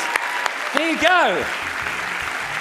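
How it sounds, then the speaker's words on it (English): Audience applause at a keynote stage event welcomes a man called up from the crowd, a steady broadband clapping wash lasting throughout while a host speaks over it close to the microphone. "Give him a big round of applause."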